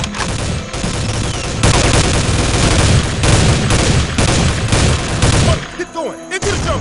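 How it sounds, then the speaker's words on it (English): Dense gunfire in Soldier of Fortune 2 in a Colombian jungle setting, heavy overlapping shots rattling continuously and loudly for several seconds before cutting off abruptly. "Sniper! Take cover!"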